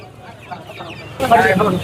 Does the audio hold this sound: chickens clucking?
yes